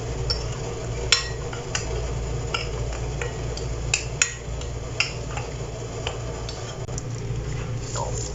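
A spoon or whisk works through gulab jamun dough ingredients with an egg in a bowl, making light, irregular clinks and taps over a steady low hum in a home kitchen.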